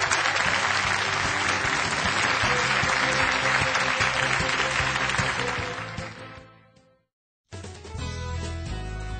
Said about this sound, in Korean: 다시 한번 수고해 주신 하미 파슨스의 김종훈 회장님께 뜨거운 박수를 부탁드리겠습니다